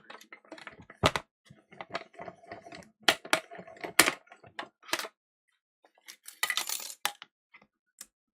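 A die cutting machine is cranked to run a cut through cardstock, making a series of sharp, irregular clicks and ratcheting snaps with short pauses between them, close and clear.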